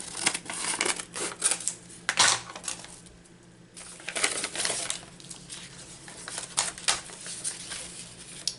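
Scissors cut through an embossed area of a paper sheet for a junk journal page with a run of close, crisp snips and rustles, pausing briefly partway through, with no talking.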